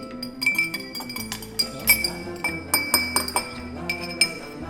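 Drinking glasses filled with saltwater solution clink together in a toast, a series of bright, ringing taps repeated several times close by, with a faint background hum.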